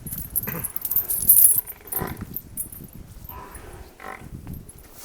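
A freshly calved buffalo on a farm gives a few short lowing calls in separate bursts, close by and moderately loud, with quiet gaps between them.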